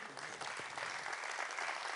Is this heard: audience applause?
yes